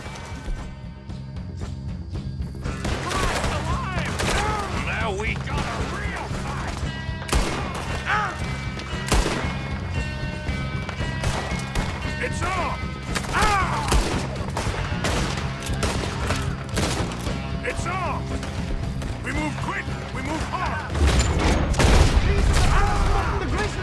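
A shootout inside the gang's camp in Red Dead Redemption 2: dense, rapid gunfire cracks continuously with sharp repeated shots, growing heavier and more thunderous toward the end, under game music and occasional voices.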